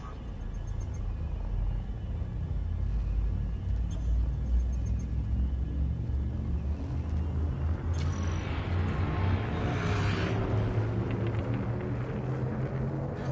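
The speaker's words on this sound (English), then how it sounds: "Frameshift drive charging." Elite Dangerous spaceship's frameshift drive charging: a deep, steady rumble that swells into a rising whooshing surge toward the end, heard alongside a spoken voice.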